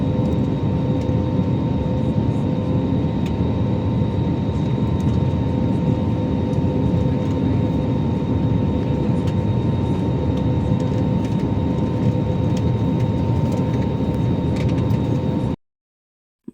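Steady, loud airliner cabin drone on a Bangalore to Mangalore flight, a dense broadband roar with a constant engine hum running unbroken for about fifteen seconds before cutting off abruptly, no talk.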